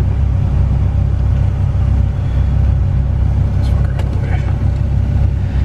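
Turbocharged single-cam Honda D-series engine in a car running on a chassis dyno, a steady, loud low-frequency drone and rumble filling the whole stretch with no clear revving changes.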